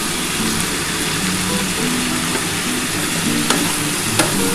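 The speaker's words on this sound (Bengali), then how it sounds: "খুব ভালো করে কিন্তু ভেজে নিতে হবে আলুটাকে।" Potatoes frying in oil in a pan while being stirred, a steady close sizzle with occasional scrapes and clinks of a spatula against the pan, no voices.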